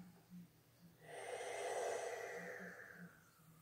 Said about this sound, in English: Take the deepest breath you've taken all day.